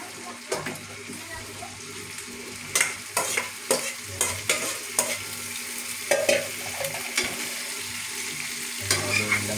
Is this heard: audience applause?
no